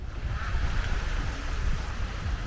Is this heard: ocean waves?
yes